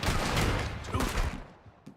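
Rapid volley of gunfire from a shootout in Red Dead Redemption 2, dense overlapping shots loud and close for over a second, then fading into scattered echoing reports.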